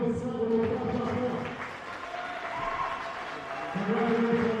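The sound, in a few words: crowd applause for the national champion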